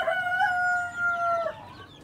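A Dominant Black chicken on a free-range farm crows once, a drawn-out call near and fairly clear over faint background noise.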